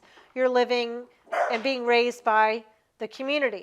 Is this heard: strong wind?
no